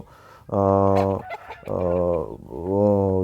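Four- to five-month-old native country chickens cluck and squawk loudly up close in a few drawn-out, harmonic calls with short pauses between them.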